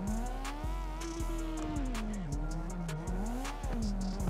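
A drift car in CarX Drift Racing at Red Rock at night, its engine revving hard through repeated rising pitches cut by quick shifts, with tires squealing steadily under the loud, close engine note.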